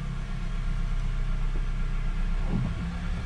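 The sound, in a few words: Honda CR-V engine idling while shifting through gears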